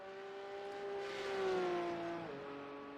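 Race car engine in a racing video game weaving on its out-lap to warm the tires, a steady droning whine that rises and falls gently in pitch, moderately loud and alone with no talk.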